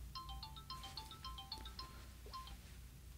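A mobile phone rings with a repeating electronic melody of short bright tones, a few bursts and then a pause, fairly close against a low background hum.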